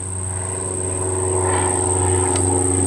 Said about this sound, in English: Damn, that plane's loud.